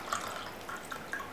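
Salty brine from a tin of tuna trickles out past the lid into a glass, a soft steady dribble with a few faint drips, close by and on its own.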